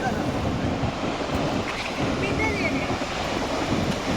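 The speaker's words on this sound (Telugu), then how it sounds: "3 గేట్లు చూడండి, వాటర్ ఎట్లా పోతున్నాయి." Water surges out of the three open spillway gates of the Srisailam dam, a steady, loud broadband roar with wind buffeting throughout and no pauses.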